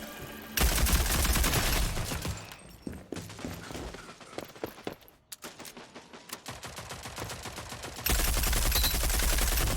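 Video game gunfire comes in dense, loud bursts of rapid automatic shots, with a sparser stretch of scattered single shots and clicks in the middle before heavy firing resumes.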